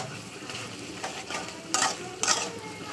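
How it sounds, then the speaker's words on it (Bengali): Papaya greens stir-fried in hot oil for a Bengali chorchori, giving a steady close sizzle broken by a few sharp spatula scrapes against the pan, with no talking. "এবার এটা ভালো করে তেলের উপর কষে নেবো।"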